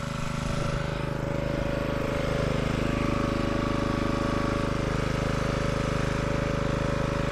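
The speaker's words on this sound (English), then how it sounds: "chainsaw." A chainsaw's small engine drones continuously at steady high revs as it cuts a groove into a tree, a buzzing motor sound that holds unchanged throughout, with no voices.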